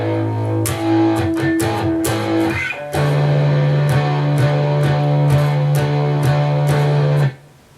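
A guitar strums the outro of a song with a few simple down strums, playing loud ringing chords in a steady rhythm for about seven seconds before the sound stops abruptly.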